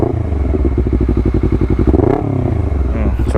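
A Honda CBR250RR fitted with a WRX GP3 K2 aftermarket exhaust idles close by with a loud, steady, rapid throb, giving one brief throttle blip midway before settling back to idle.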